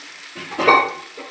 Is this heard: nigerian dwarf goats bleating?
no